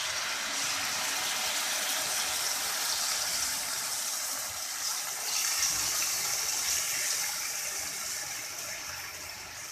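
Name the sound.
marinated chicken frying in a pan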